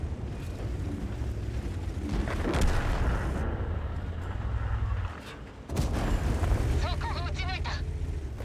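Cannon fire from a Type 4 Ju-To tank in a tank video game, heavy booming blasts over a rumbling engine drone, with a brief drop to near quiet before the din returns; players talk throughout.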